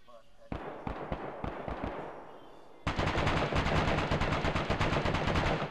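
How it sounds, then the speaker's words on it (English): Gunfire in the video game DayZ: a few scattered sharp shots first, then a long rapid automatic burst of dense, loud, rhythmic cracks, with a voice speaking briefly. "Who's shooting?"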